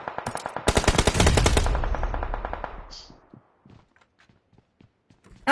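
Automatic weapon fire in the battle royale game PUBG Mobile: a rapid burst of loud shots building into a sustained stream, fading out into scattered footsteps and faint clicks, with brief quiet talk between.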